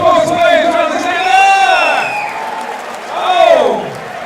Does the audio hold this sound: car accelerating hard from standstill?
no